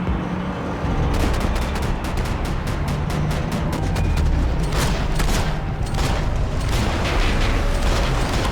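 Rapid gunfire in the video game Max Payne 3, with dense bursts of sharp shots crackling in quick succession over a heavy rumbling background for several seconds without pause.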